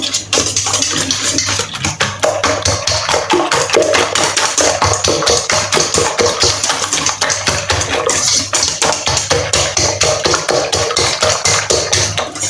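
Eggs seasoned with black pepper are beaten briskly for an escarole tortilla, a fast, steady stream of close tapping against the bowl that continues loudly and evenly throughout.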